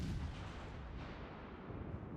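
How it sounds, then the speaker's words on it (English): Guns fire a salvo of shells in the naval game World of Warships: Legends, heard as a low, heavy boom with a rumbling tail. The salvo is fairly quiet overall and stands alone without talk. "We're going to throw some shells out there on the Aoba."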